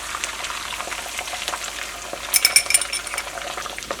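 Eggs frying in hot oil for chicken fried rice, a steady crackling sizzle with a sharper burst of spattering partway through, close and alone with no talk.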